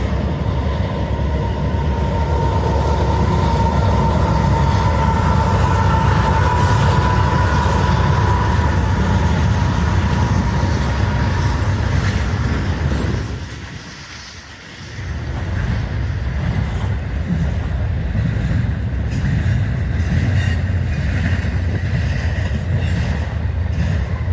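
A train passing near a disc golf park in Iowa rumbles loudly and continuously with a steady roar of wheels on rails, dipping briefly in the middle before the rumble returns.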